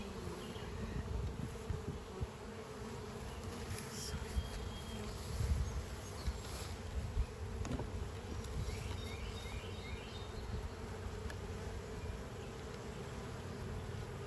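Honey bees buzzing in an opened hive, a dense, steady drone that fills the whole stretch at close range, with occasional faint handling noises.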